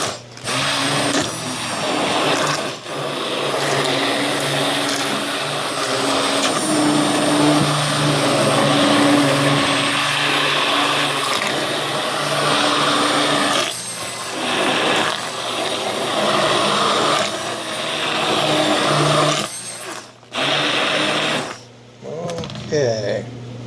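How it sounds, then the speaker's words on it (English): A hand blender whirs continuously while blending boiling plums for home canning, a loud steady motor whine lasting most of the stretch before cutting out near the end, with a person speaking over it. "So I'm just going to blend it down a little bit"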